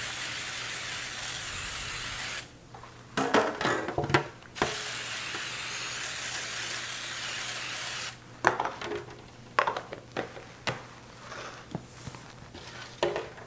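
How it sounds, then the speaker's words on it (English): Two bursts of aerosol spray hiss, each a couple of seconds long, separated by a pause, with faint background hum and light handling noise. "Now I'll spray two baking pans."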